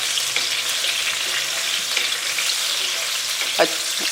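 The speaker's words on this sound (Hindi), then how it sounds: "ये टिंडे मैं ब्राउन कर रही हूँ।" Salted round gourd (tinda) pieces sizzle as they brown in a frying pan, a steady close frying hiss with occasional stirring clinks and a louder scrape near the end.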